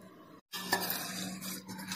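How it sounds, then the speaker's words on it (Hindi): Light clinking and stirring as spices and fried ingredients are mixed into poha for chivda in a metal pan, soft scraping and rattling close up, with a brief silence early on. "वो इसको हम हमारे इस पोहे में मिक्स करेंगे।"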